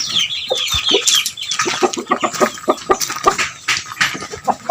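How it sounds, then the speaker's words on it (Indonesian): Bangkok chickens and chicks in a coop cluck and peep busily in overlapping bursts, close and loud, with a few wing flaps. "Kita lagi di kandang ayam dan memilih anak ayam Bangkok yang bagus dan mainnya hebat."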